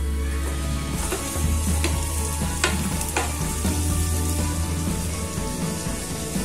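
Onion and garlic sauté in hot oil for moong dal khichdi, a continuous crackling sizzle punctuated by several distinct scraping stirs of a spoon in the pan, with no voices.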